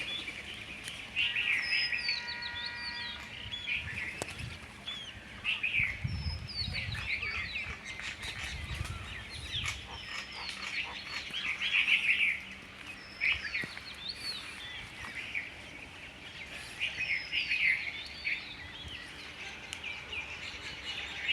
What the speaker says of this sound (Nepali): चराचुरुङ्गी कराइरहेको छ।